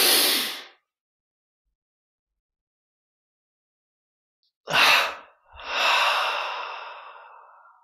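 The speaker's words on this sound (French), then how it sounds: "une double inspire par les narines" Two sharp sniffs in through the nostrils during a guided breathing and relaxation exercise, followed by a longer, fuller inhale, close and alone in a quiet room, after an earlier breath fades out.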